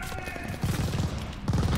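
Gunfire in the Call of Duty Vanguard video game, a hail of shots from outside heard as two short bursts of rapid crackling, mid-distance, over a background din.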